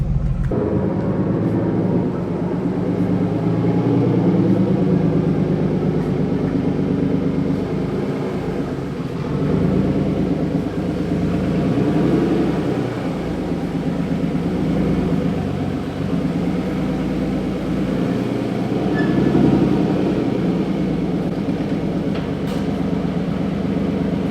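An RB-engined G35 car is driving, with a steady, continuous engine and road drone heard from inside the cabin, moderately loud and unbroken, with no talking.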